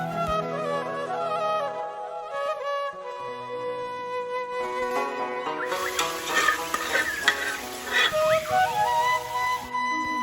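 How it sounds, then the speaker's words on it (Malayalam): Crackling, popping sizzle of seeds frying in hot oil, starting midway and continuing over background music, close and moderately loud. "കറിക്ക് കടുക് വറുത്തിടാനായിട്ട് പോവാണ്"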